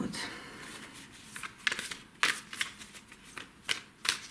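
Tarot cards being shuffled close up, a soft riffling with quick papery flicks in short bursts, fairly quiet with a faint voice in the background.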